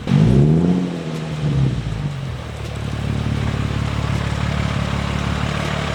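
An Infiniti G35 on new Michelin Pilot Sport A/S 4 tires backs up, its engine giving a low steady idle rumble with a brief rev at the start, close by and alone with no talking.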